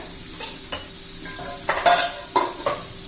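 A spoon stirs onion-garlic masala, coriander powder and turmeric in a pan, giving a soft sizzle broken by several sharp clinks and scrapes of metal against the pan, close and fairly quiet, with no speech.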